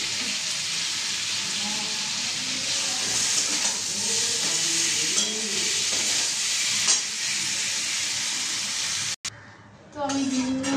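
Onion and potatoes frying in a pan, a steady loud sizzle with occasional stirring scrapes, briefly cut off near the end before a quieter bubbling resumes; someone talks over it.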